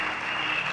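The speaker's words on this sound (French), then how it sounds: "Acclamons pour vous-même." A church congregation applauding during a sermon, a brief burst of dense, steady clapping from many people.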